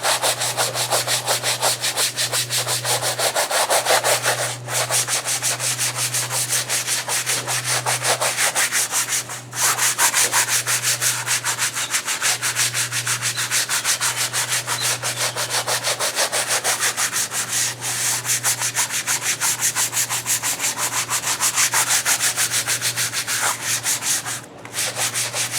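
A car floor mat on a GMC gets scrubbed with all-purpose cleaner: brisk, continuous scrubbing strokes, close and steady with only brief pauses, and no talking.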